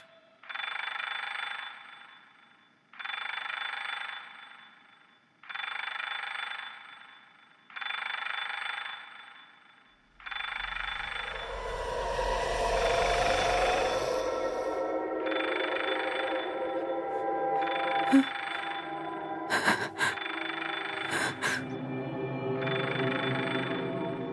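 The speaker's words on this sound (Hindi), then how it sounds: "सारा की मोबाइल का अलार्म" A mobile phone alarm in a Hindi TV serial rings in steady repeated bursts, four or five evenly spaced beeping tones, then keeps sounding under a burst of louder noise and clatter partway through.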